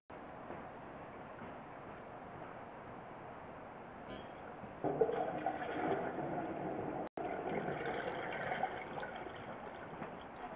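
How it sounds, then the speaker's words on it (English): Toilet flushed in a bathroom, heard from inside a sewer line as water flowing through the pipe: a quiet steady trickle that swells into a louder rushing flow midway and keeps running. "I'm going to go flush the toilet again"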